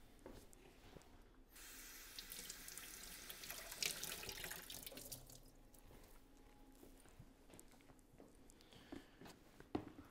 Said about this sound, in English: Let me just wet this towel in warm water